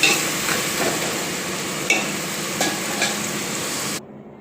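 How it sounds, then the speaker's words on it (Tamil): Tomatoes with turmeric sautéed in a pan into a gravy, a continuous close sizzle with a few sharp clinks of a spatula, ending abruptly in silence. "அந்த தக்காளி சுருண்டு நல்லா கிரேவி ஆகும். நல்லா வதக்கலாம்."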